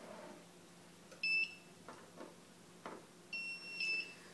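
Short high-pitched electronic low-battery beeps from a Turnigy 9X radio transmitter sound in a quiet room, a single chirp then a pair of beeps a couple of seconds later, with faint soft knocks between.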